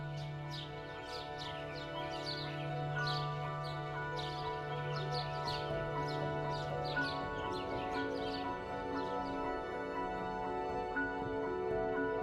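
Birds chirp and trill repeatedly in the distance at sunset beside a narrowboat on a towpath, their calls scattered through a steady low background hum.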